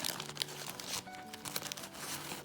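Clear raffia bunched and cut, giving a dry, close crinkling and rustling with brief crunchy snips over about two and a half seconds, fairly quiet.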